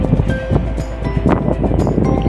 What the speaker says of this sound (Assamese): বতাহবোৰ বহুত জোৰেৰে বলিছে